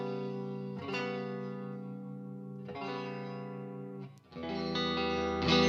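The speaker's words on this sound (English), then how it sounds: "Distortion, please." Electric guitar through a distortion effect during a sound check, sustained distorted chords struck three times with long ringing decay, loud and close with no talking.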